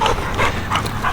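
A dog whimpers and yelps during bite work training, giving about four short, high, strained cries in quick succession, close by.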